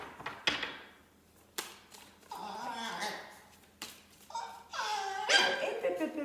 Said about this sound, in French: J'ai mes chiens qui commencent à se réveiller.